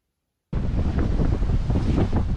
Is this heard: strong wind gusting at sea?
yes